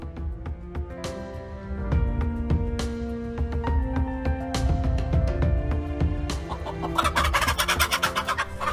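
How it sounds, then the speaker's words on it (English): A mother hen clucking while defending her chicks from a cobra, a run of repeated close clucks and agitated calls, ending in a burst of rapid, frantic squawking. "Let's see how the mother hen fights the cobra to protect her young ones."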